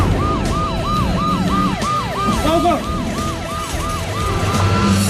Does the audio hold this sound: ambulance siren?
yes